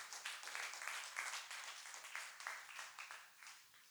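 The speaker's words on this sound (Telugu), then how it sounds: "అలాగే చప్పట్లు కొడుతూ యేసయ్య నామమున మహిమపడదాం." A church congregation claps continuously during Sunday worship, a dense, fairly distant wash of many hands at a steady level throughout, with no voices standing out.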